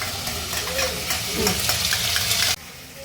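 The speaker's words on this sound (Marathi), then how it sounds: "आता एक बारीक चिरलेला टमाटा घालूयात आपण।" Finely chopped tomato goes into a pan with sautéed onion and ginger-garlic paste and fries with a loud, steady sizzle and some stirring. The frying drops abruptly near the end.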